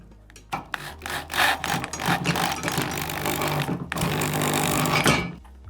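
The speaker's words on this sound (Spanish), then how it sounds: "Ahora apretamos con nuestra llave Allen o con nuestro atornillador." Screws on an IKEA IDÅSEN desk tightened with an Allen key or screwdriver, giving close, sustained scraping and ratcheting rasps in several bursts with a short pause between them.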